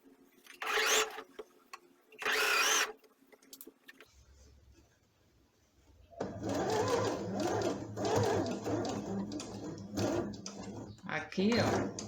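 Sewing machine running in bursts while stitching fabric pieces for a baby elephant pillow, two short loud runs early, then longer sustained stitching with a brief pause near the end, a speaking voice between the bursts.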